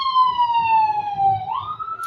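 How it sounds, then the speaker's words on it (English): An emergency vehicle siren wails loudly and steadily, its tone gliding slowly downward and then sweeping back up as it passes, with no talking. "there's an emergency vehicle running by with the sirens"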